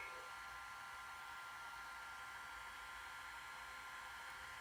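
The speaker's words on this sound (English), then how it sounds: "going to go ahead and use a heat gun to do it" A heat gun runs with a steady, even blowing hiss throughout, warming a Bondtech extruder part for a Prusa i3 MK2, with no talk over it.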